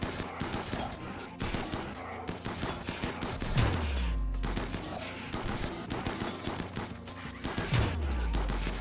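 Video game combat on a map covered in shallow water: rapid bursts of gunfire repeat throughout, broken by a couple of deep booming impacts.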